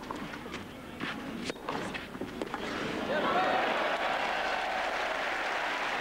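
A tennis crowd applauds at match point, starting with scattered claps and shouts and swelling into sustained, dense applause and cheering.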